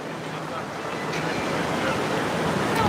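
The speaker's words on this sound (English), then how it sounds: "It is very windy." Steady, rushing wind buffets the microphone, a broad roar that builds slightly over a few seconds, with faint voices underneath.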